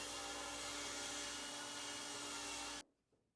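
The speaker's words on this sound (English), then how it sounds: "As the board is pre-milled, I can start by ripping it into 4 strips" A pre-milled walnut board being ripped into strips on a power saw, a loud steady whining cut that runs continuously and then stops abruptly near the end, leaving near silence.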